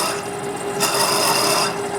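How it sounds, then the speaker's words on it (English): A drill bores steadily into a KitchenAid worm gear part with a continuous loud grinding rasp, getting harsher and brighter midway as the bit cuts deeper. "I can drill the second one too while I'm here by going deep."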